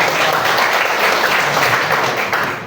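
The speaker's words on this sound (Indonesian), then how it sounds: "Oke, tepuk tangan 2 kali." A classroom of students claps together in a loud, close burst of applause that holds steady to the end without any talking.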